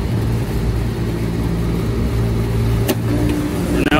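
A two-stage HVAC furnace blower runs at the start of its first stage, giving a steady, close, low-pitched whooshing hum with faint tonal drone and a brief click partway through.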